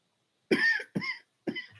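Three harsh coughs in a row, close and fairly loud, the first longest, with short silent gaps between them.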